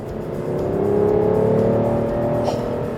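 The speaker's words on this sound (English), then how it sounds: "probably the best thing about the whole car for me is the noise it makes" A car engine revs loud and close, its pitch climbing steadily as it swells, then cuts off with a brief sharp blip near the end, with no talking.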